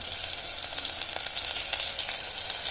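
Ginger and garlic fry with softened onions for Puneri misal pav, giving a soft, even sizzling hiss that stays steady and fairly quiet throughout.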